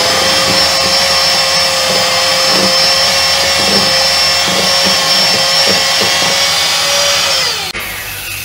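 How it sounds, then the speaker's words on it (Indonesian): An electric mixer at its highest speed beats egg whites for a baking demo, giving a loud, continuous motor whine with a steady tone that cuts off abruptly near the end. "Kecepatan berapa chef saat mixer? Saya pakai kecepatan paling tinggi."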